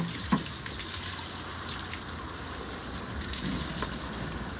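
Spring water running steadily from a public tap into bottles at an outdoor fill-up spot in Eden Prairie, Minnesota, a constant close gushing splash with no talking.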